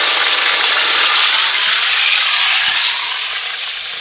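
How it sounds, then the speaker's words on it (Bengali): Green vegetables dropped into hot oil in a kadai, a loud, dense, steady hiss of frying close up that eases slightly toward the end, no talking. "এই গ্রিন কড়াইগুলো তেলের উপর দিলাম।"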